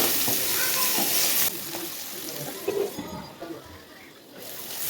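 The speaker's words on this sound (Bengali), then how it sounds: "এবার আমি এটিকে ভালোভাবে ভেজে নিব" Eggplant fries in oil in a pan, giving a dense, steady hiss with a stronger sizzle at first that eases off, and a few spatula knocks near the middle.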